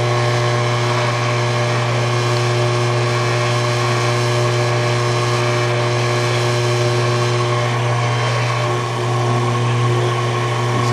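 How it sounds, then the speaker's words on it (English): A steady motor whine hums evenly throughout, a drill running continuously at constant speed boring a hole in a clock plate, with no voices. "You see how that drill picked up the center of that hole right away."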